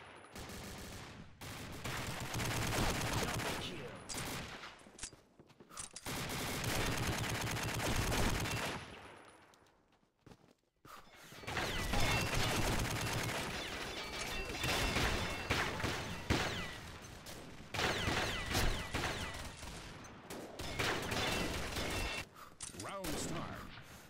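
An SG550 Mark II rifle in Combat Arms fires in long, loud, rapid automatic bursts separated by short silent pauses. The repeated volleys sound close and dominate throughout.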